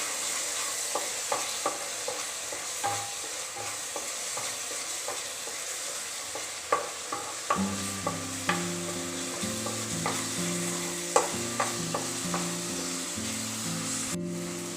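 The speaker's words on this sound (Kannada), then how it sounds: "1 ಟೀ ಸ್ಪೂನ್ ಧನಿಯಾ ಜೀರಾ ಪೌಡರ್ ಹಾಕಿ ಚೆನ್ನಾಗಿ ಮಿಶ್ರ ಮಾಡೋಣ." Chilli powder with coriander and cumin powder is stirred into a masala frying in a pan, soft steady sizzling with repeated light scraping and tapping of a spoon, growing fuller partway through.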